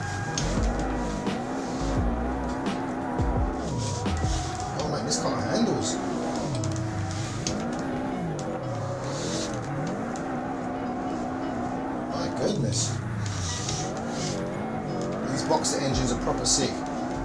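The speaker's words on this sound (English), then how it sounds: "I think this is going to be a bit of a nice drift" A Chevy or WRX STI GT race car drifts in the Assetto Corsa racing game, its engine revving and shifting under sustained tire squeal, while someone talks over it throughout.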